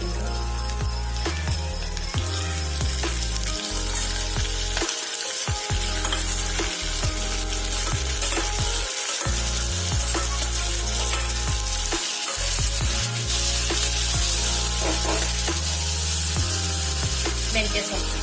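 Spinach (palak) hits a hot frying pan and sizzles loudly and continuously for a long stretch, with spatters and occasional stirring scrapes close by.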